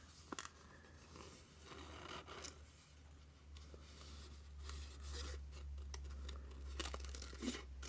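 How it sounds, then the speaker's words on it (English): Paper being cut out for an art journal spot, quiet close snips and rustling scrapes in irregular bursts over a low hum. "I'll just cut it out a little bit easier."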